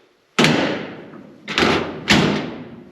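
Car doors being shut and latching firmly: three loud, close thuds, the first alone and the next two about half a second apart, each ringing briefly before fading, with no talk.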